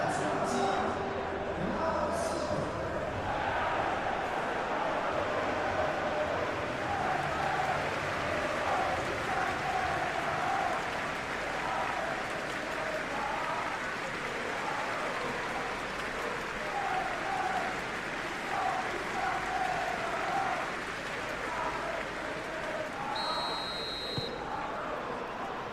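A steady stadium crowd roar with applause fills a PES 21 football match simulation of Manchester City vs Liverpool in the Premier League, loud and continuous throughout.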